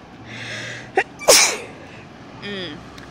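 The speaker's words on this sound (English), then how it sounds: "Sorry, sneeze." A single loud, close sneeze outdoors in bright sunlight, with a small sharp intake just before it over quiet background traffic-like noise.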